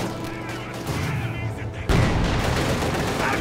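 Heavy mortar fire in the video game Company of Heroes 2 lands as a sudden loud boom partway through, amid ongoing battle noise and a commentator talking over it.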